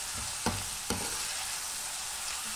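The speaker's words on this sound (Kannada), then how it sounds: "ಚೂರು ಇದು ಫ್ರೈ ಆಗಲಿ" Green chilies fry in a pan for a greengram curry, making a steady close sizzle with two brief louder bursts as they are stirred or tossed, and no voices.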